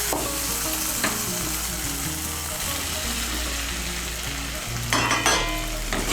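Fried soybean chunks, potatoes and peas being fried in spice paste, giving a loud continuous sizzle close by, with spatula scrapes and a brief burst of stirring near the end.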